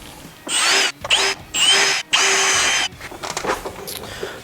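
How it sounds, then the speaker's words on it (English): A power drill bores two screw holes for a snowmobile replacement tank bracket with a 1/4 inch bit, in several loud close whirring bursts broken by short pauses, followed by quieter handling clatter. "Now we're going to drill the 2 screw holes"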